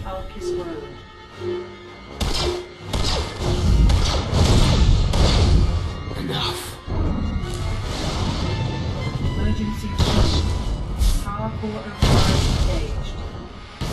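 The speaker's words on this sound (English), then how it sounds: "Critical explosions detected on the foundry level." Repeated booming thuds and crashing blasts roll through in Star Wars: The Old Republic, loud and dense, with a voice announcing explosions on the foundry level over the noise.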